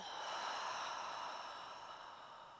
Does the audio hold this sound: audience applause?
no